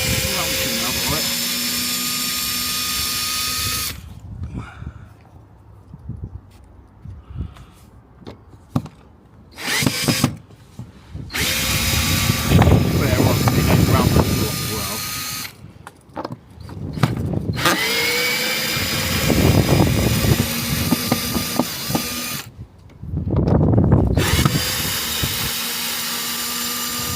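Power driver backing screws out of lifted garden decking boards, whirring in repeated close bursts of a few seconds, with someone talking in between.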